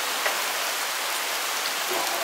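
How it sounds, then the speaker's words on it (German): Steady rain falls during a summer bicycle tour, a dense, even hiss of drops hitting surfaces that holds unbroken through the whole short stretch, with no voices. "Jetzt hat uns der Regen mal wieder erwischt."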